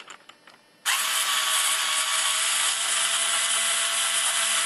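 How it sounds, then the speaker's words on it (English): Electric screwdriver backing a tap out of a hydrogen tap build: after some faint handling noise, the motor starts suddenly and runs as a loud, steady whirring whine, close up, with no talk. "I'm using an electric screwdriver because I'm not that dumb"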